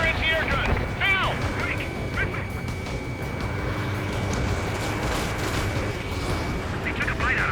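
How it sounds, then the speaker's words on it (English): Anti-air gun fire in the Ace Combat 7 flight combat game, heard as dense continuous rumbling bursts over jet engine roar, with in-game radio chatter and synthetic tones mixed over the steady loud noise. "Fire anti-air gun. Now!"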